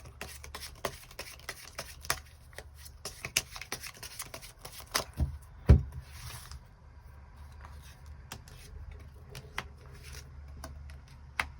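Tarot cards shuffled and drawn at a table during a love-fortune reading, heard as soft, scattered card flicks and taps with a couple of louder slaps midway over a low background hum, no talking.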